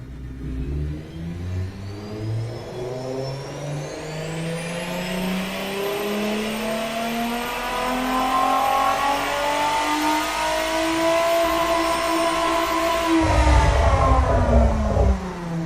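A simulated supercar engine from the Automation car tycoon game revs steadily upward, its pitch climbing smoothly over about thirteen seconds with no talk, then a deeper rumble cuts in near the end.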